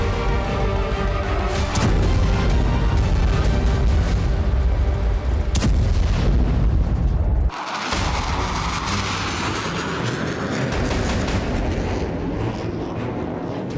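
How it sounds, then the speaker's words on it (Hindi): Heavy, continuous rumbling blasts from bombs dropped from the air onto a pipeline, loud and dense throughout with a sharp crack midway before the roar continues. "यूक्रेन ने आसमान से बम गिराकर पाइपलाइन को कई जगह से उड़ा दिया"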